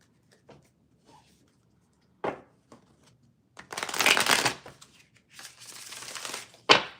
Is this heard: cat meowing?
no